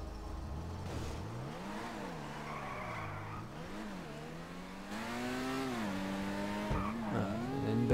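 Benefactor Krieger supercar in GTA Online revving hard, its engine note climbing and dropping through several gear shifts, then building to a louder, sustained acceleration toward the end, close and alone without voices.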